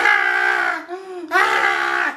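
A three-year-old child screams loudly at close range in two long, strained bursts separated by a brief gasp.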